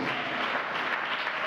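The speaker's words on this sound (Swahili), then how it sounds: "Tumpigie Yesu makofi watumishi." Church congregation clapping steadily and densely for Jesus at a worship service, a continuous wash of many hands close by with no voices on top.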